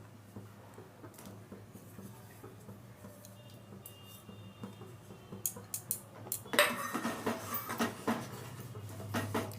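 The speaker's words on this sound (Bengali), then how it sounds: "এবারে কাজু আর কিশমিশটা দিয়ে দিচ্ছি।" Cashews and raisins tipped into sweet payesh in a pot, with clinks and scrapes of a spoon against metal building toward the end amid a low steady hum, quiet and close, no speech.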